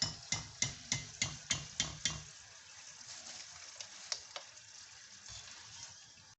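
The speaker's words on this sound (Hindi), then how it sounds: "ये देखें इस बर्तन में मैं डाल लूँगी। देखें कितनी प्यारी आवाज़ आ रही है इनकी।" Homemade Lays-style potato chips tumble into a bowl with a rapid series of crisp, brittle rattling hits, about eight sharp clatters in quick rhythm, then softer scattered crackles as the pile settles, close and clear with no talk.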